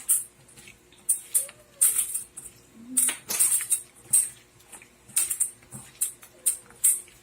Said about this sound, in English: I find hand works best to just meld these flavors together. Mix everything really, really well.